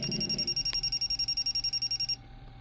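Rapid electronic beeping from an air conditioning leak detector's audible alarm, a fast continuous pulse of about ten beeps per second, close and steady, stopping abruptly near the end.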